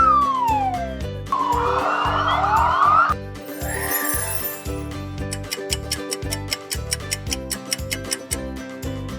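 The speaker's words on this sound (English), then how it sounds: "Ambulance." A wailing emergency siren sweeps up and down, then gives way to a ringing bell and a steady ticking rhythm, loud and close.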